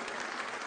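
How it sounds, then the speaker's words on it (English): A short burst of applause from a crowd at a campaign rally, dense clapping at moderate volume. "Would you just give him a round of applause?"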